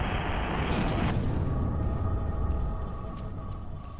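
Massive explosions in the Star Trek Online video game, with a loud continuous rumbling roar and a bright sweeping whoosh early on, settling into a sustained low booming drone.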